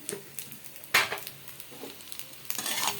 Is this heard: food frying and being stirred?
yes